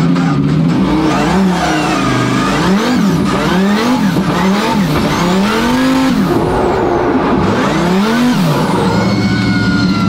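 A Formula Drift car engine with a nitrous setup revs hard and loud, its pitch sweeping up and down in repeated bursts of acceleration, with no talking.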